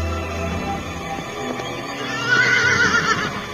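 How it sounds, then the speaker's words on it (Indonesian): A racing horse whinnies loudly and steadily, with hoofbeats running beneath, heard alone without talk. "Kuda Aipat berlari paling kencang"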